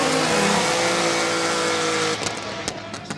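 Drift cars race around Okayama International Circuit during a top-16 competition round. A loud sustained engine roar and tire squeal come first, then they drop to a lower rumble with sharp bangs and pops as the cars pull away.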